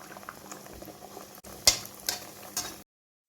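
Bhatura dough frying in a pan of hot oil, a steady bubbling sizzle with a few louder crackling bursts and spoon clinks near the end before the sound cuts off.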